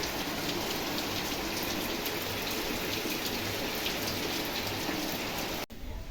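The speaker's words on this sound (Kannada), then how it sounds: "ಫುಲ್ ಮಳೆ" Heavy rain pours down in a dense, steady roar of drops hitting surfaces nearby, loud and continuous until a brief cut near the end.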